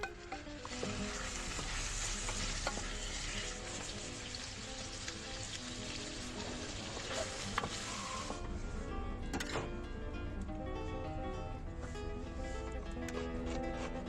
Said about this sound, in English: Artichokes in and stirred for a couple of minutes